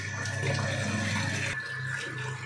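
Water runs steadily into a 50 litre shampoo mixer tank, a continuous close rushing splash with a low machine hum, briefly shifting in tone partway through.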